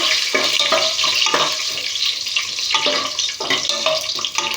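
Whole spices and a bay leaf for chicken biryani sizzle steadily in hot oil, a continuous loud crackling hiss with periodic bursts as they are stirred, close and with no voices.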